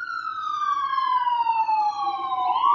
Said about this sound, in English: It's omnipresent sirens